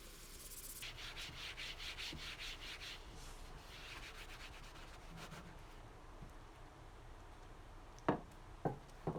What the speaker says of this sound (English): you just want to clean it really good, scrub it